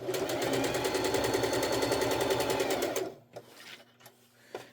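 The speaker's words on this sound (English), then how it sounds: "go all the way down and across the bottom and back up the side. Just sewing 1/4 of an inch." A sewing machine runs fast and steady, stitching a quarter-inch seam around the edge of a fabric machine cover, then stops abruptly, leaving a few faint handling clicks and no voices.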